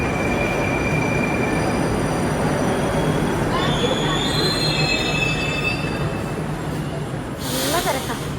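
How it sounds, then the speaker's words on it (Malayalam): Metro train riding through a tunnel in Uzbekistan: a loud, steady rumble of wheels on rails with squealing, rising and falling screeches and a sharp hiss near the end. "നമ്മൾ മെട്രോ ഒന്ന് എക്സ്പീരിയൻസ് ചെയ്യാൻ പോവാണേ"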